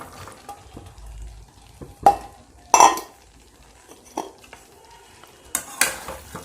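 Spices being stirred and fried in a cooking pan, with a soft sizzle under sharp scraping and clinking strokes of a utensil at irregular intervals, close and clear with no talk.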